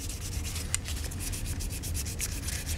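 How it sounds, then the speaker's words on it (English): A handlebar riser spacer being sanded by hand with a rubber sanding block produces close, continuous rhythmic rubbing and scraping strokes at an even, moderate level, with no voices. "the rubber part helps me get down into the notches, into the cracks, get it all sanded flat"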